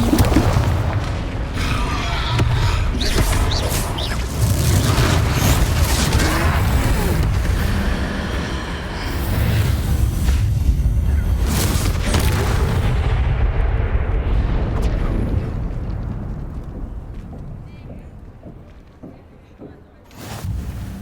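Confringo spell blasts in the Hogwarts Legacy video game erupt in loud, booming explosions during a troll fight, a dense run of heavy impacts that fades toward the end, followed by one last burst.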